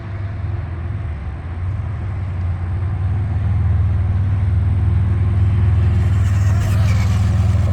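A Traxxas Mini Rally Ford RS200 RC car running at speed during a speed run: a steady, loud motor hum and rumble that builds slightly, then holds as the car passes, with no voices.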